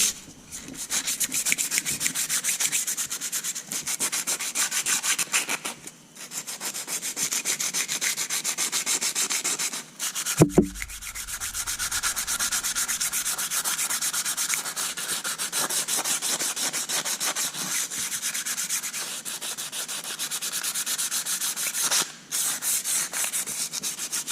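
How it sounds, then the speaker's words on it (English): Steady back-and-forth light sanding of an aluminum gasket surface on a Detroit 353T engine, a continuous close raspy hiss with one brief pause partway through. "But just a very light sanding."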